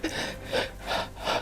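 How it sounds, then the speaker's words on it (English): Close-miked breathing, with rhythmic rasping in-and-out breaths pressed right against the microphone, about four soft rushing pulses in quick succession. "It's the sound of my lungs and stuff."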